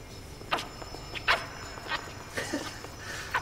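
A virtual dog in the VR game The Lab makes short, scattered yips and whimpers, several brief bursts over a few seconds with faint background noise.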